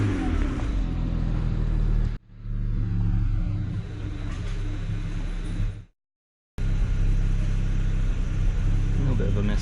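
A BMW 335i E92 with an N54 engine, fault codes just cleared and a lingering ignition misfire, rumbles loudly at close range with revving, broken by a brief dropout before the engine noise resumes.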